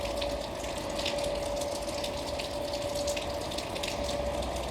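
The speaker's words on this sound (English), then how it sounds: "You may be able to hear the neighbor's downspout that is pouring down." Rainwater pours steadily from a neighbor's downspout, a constant splashing gush with a faint steady tone running through it, fairly close and unbroken.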